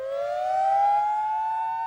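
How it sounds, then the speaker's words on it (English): A tornado siren wails in a single slowly rising, steady tone that swells and then holds, heard clearly and fairly loud on its own for about two seconds. "installation of a new tornado siren system in town"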